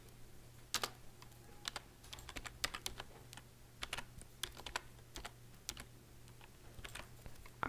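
Computer keyboard being typed on, with quick, irregular clicks in short bursts and pauses over a faint steady hum, close and quiet, with no talking.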